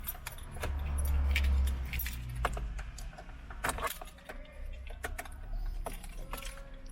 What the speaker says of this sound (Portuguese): Vou ligar esse carro aqui.